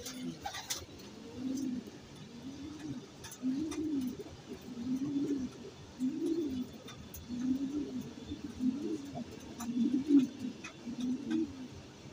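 Racing pigeons coo close by in repeated soft, throaty rolls at a fairly even rhythm, alone, with faint background noise.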